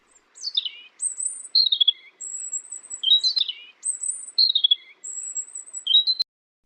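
A robin chirps and sings clear, high whistled phrases in repeated bursts, bright and close against a silent background with no voices.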